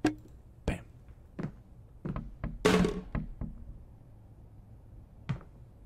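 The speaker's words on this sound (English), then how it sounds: "Okay, I'm hearing the knocking sounds" Several sharp knocks from the horror game Late Night Mop, scattered irregularly as single and paired thuds over a quiet background, with one louder, longer rap in the middle and a final knock near the end.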